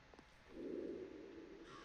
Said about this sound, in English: Oh, another raven.